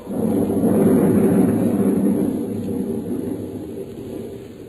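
A thunder sound effect in an old radio drama: a loud, close, sustained rumble that swells early and slowly fades, with no voices over it.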